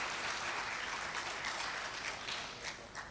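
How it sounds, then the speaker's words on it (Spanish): At an agricultural conference marking a 39th anniversary, an audience gives a short, fairly faint round of applause for researcher Juan Manuel Garzón, the clapping thinning and fading out over three seconds. "Acompañamos con un fuerte aplauso para Juan Manuel Garzón"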